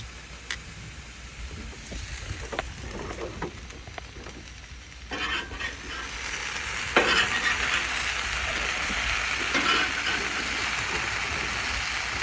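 Pork and garden vegetables fry in a pan, with a few clinks and scrapes early on, then a louder, steady sizzle as pieces are flipped, continuing strongly to the end.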